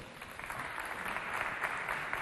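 A hall audience at a neighbourhood-centre holiday contest claps, a dense, even wash of applause heard from a distance that holds steady for a couple of seconds.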